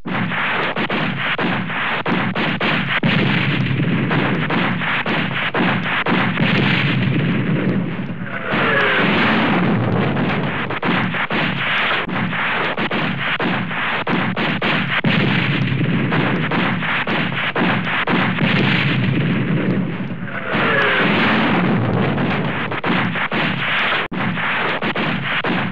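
An artillery salute fired in honor of a Filipino-American hero, heard as sustained loud booming blasts with a brief lull, strongest around the start and a second surge later on, with no talk.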